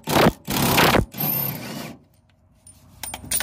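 A tool works the last 13mm bolt out of the AdBlue tank on a Peugeot Boxer 2.0 van: three short, close mechanical whirring bursts, then near quiet with a few small clicks.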